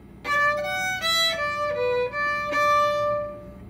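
Solo fiddle plays a short Irish trad phrase with no tie and no cut, several distinct bowed notes in plain succession, each cleanly separated, bright and close with nothing else audible.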